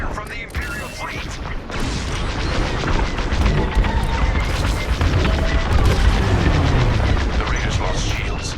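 Starfighter cannon fire and explosions roar through a Star Wars Squadrons space battle against an Imperial fleet, a continuous loud wall of rapid blasts and rumbling booms with no pause, with no voices heard.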